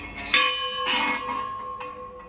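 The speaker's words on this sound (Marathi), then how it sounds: "हा बघा घंटा कसला मोठा आहे," An old, large temple bell at Kankaleshwar Temple in Beed is struck three times; each strike gives a bright metallic clang whose ringing tones hang on and overlap, heard close with no talk.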